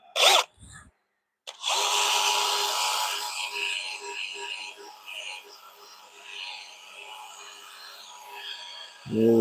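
A cypress bowl being sanded while spinning on a wood lathe, a steady close whirring hum with an abrasive rasp that swells and eases, cut off by brief bumps and a short pause at the start.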